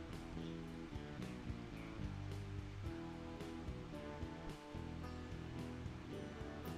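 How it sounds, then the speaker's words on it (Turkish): Hot water is poured steadily over Kenya Ichuga AB coffee grounds in a pour-over brewer, up to 120 millilitres. The pour is a soft, continuous rushing stream over quiet background music. "30. saniyeden itibaren 120 mililitreye kadar döküyorum."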